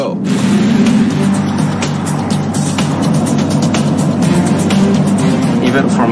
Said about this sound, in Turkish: Gaza fazla sert davranamazsınız çünkü gaza bastığınız anda araba gider.